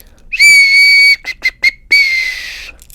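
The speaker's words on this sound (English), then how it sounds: "Let me give you the tone on this whistle versus this whistle." An NDUR 7-in-1 survival whistle gives a loud, shrill blast, then three quick short toots and a final long blast, piercing and close with no talk.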